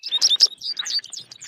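American goldfinch song played from a recording, a quick run of bright chirps and twittering notes, loud and close, with no voices.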